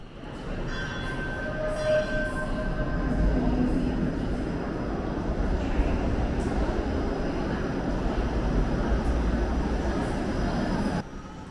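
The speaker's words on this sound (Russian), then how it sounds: "трамвай, который только что сам спустился под землю где-то по рампе вот там за поворотом, пропускает пешеходов перед въездом на станцию" A Toronto streetcar rolls into an underground station after descending a ramp, a steady loud rumble of wheels and motor with faint whine and tones filling the space continuously before cutting off near the end.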